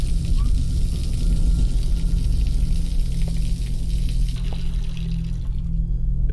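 Water running from a tap in the video game Observer: a steady, loud, hissing gush that holds constant throughout, with faint background game noises and no clear speech.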